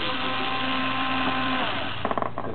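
An electric screwdriver unscrews a screw from a DVR case, a close, steady motor whir with a few rattling clicks near the end.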